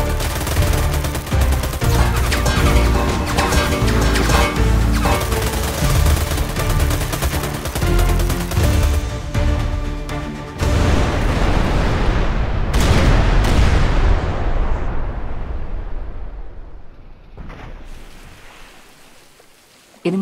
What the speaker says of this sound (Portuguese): Vanessa, pega aquela arma. Atira nesse desgraçado.